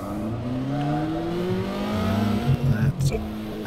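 A Formula 2 race car engine in the rFactor 2 sim at Silverstone, a steady rising tone that climbs as it revs, with a commentator talking over it throughout and brief choppy blips near the end.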